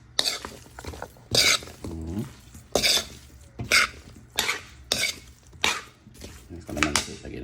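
Tuna kilawen, an Ilocano raw-fish dish, is stirred in a bowl with a utensil, making a run of about ten rhythmic scraping clinks, close and moderately loud, with no talk.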